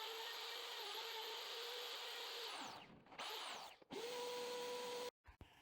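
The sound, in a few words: router levelling a parota wood slab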